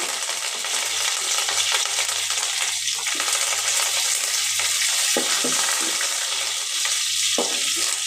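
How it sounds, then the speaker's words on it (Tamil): Hot oil sizzles steadily while mustard seeds pop and crackle in scattered bursts, close up and with no talking, as papaya kootu is cooked. "கடுகு வெடிச்சிருச்சு"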